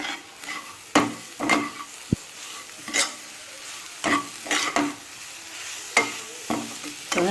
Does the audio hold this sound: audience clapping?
no